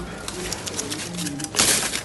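A female grasscutter (cane rat) gives quick, soft repeated calls, faint low pulses over steady background noise, with a brief brighter rustle near the end.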